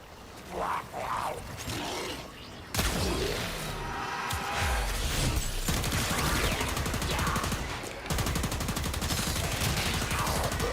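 Rapid, dense gunfire from the Leighton weapon in the shooter Warframe, nearly continuous loud bursts and impacts for about ten seconds with brief breaks, no voices.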